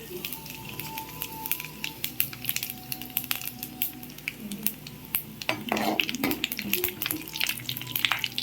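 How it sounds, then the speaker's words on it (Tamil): Cinnamon, cardamom, cloves and fennel seeds frying in hot oil for sweet corn kurma, a crackling sizzle with scattered pops and clinks of a spoon against the pan, busier toward the end, no talk. "இப்போது நம்ம எடுத்து வச்சுருக்கிற பட்டை, ஏலக்காய், லவங்கம், சோம்பு எல்லாத்தையும் போட்டுருவோம்"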